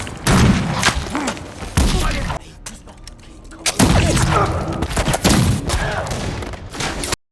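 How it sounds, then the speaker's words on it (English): Loud bursts of gunfire in the TV series The Bluff, in rapid volleys, with a brief quieter lull midway before the shooting resumes, heavy and close. "greets them with gunfire"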